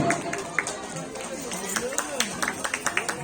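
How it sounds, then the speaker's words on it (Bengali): Audience at a photography competition ceremony applauding a judge, scattered claps growing denser over a few seconds amid background chatter. "ম্যাডামের জন্য ধরে হাততালি"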